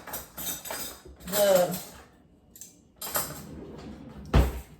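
A metal spoon clinks and scrapes against a metal cookie sheet in a few separate handling bursts, close by, with a person talking in between and a sharp clank at the end.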